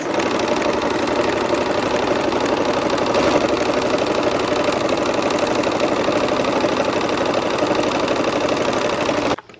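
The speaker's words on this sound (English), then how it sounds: "here we are at the machine. Go ahead and sew these" A sewing machine stitches quilt block pieces for a barn quilt sampler, its fast, steady motor whir and needle clatter running loud and unbroken for about nine seconds before stopping abruptly.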